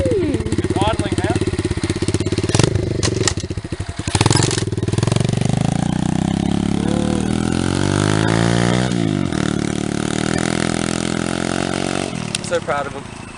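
A pit bike engine idles and revs loudly and close by, its pitch rising and falling in steady sweeps, with people talking over it outdoors beside a river at sunset.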